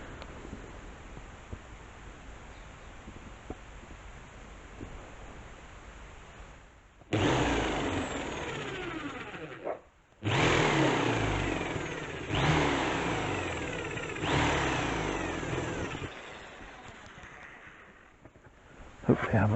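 A power drill boring a hole for a DIY bonsai turntable, heard in several loud, whining bursts of a few seconds each, separated by brief pauses, after a quieter stretch of background noise.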